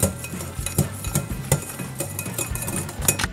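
A utensil stirs cream with vanilla extract and powdered sugar in a bowl, giving quick, irregular clinks and scrapes against the dish. It is soft and close, with no talking.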